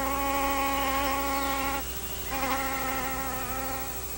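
Female flies buzzing around a Cypripedium orchid, a steady close whine with harmonic layers that dips briefly in the middle and then resumes, with no voices.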